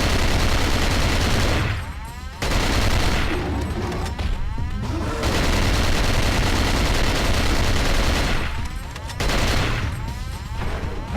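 Sustained loud gunfire in the horror game Cold Fear, aimed at a big red hand: continuous rapid shooting that pauses briefly twice, with booming, crashing impacts throughout.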